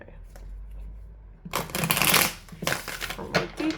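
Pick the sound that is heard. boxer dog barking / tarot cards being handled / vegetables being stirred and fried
tarot cards being handled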